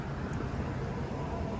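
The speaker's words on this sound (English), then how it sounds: "And we have another hybrid bus coming our way." Hybrid city bus approaching along University Avenue in downtown Toronto at night: a continuous, close, broadband engine and road rumble fills the short stretch with steady loudness.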